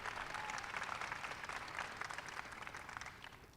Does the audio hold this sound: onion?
no